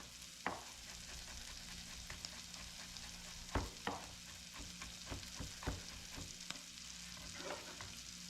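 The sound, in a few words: garlic sizzling as it fries in a pan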